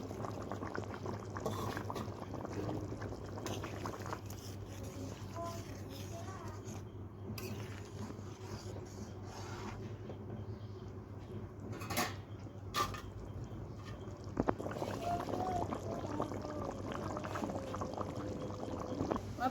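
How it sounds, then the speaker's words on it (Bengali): Paneer cubes going into a curry simmering in a pan, with a steady bubbling hiss and occasional faint clinks and splashes throughout. "এখন পনিরগুলো দিয়ে দিচ্ছি।"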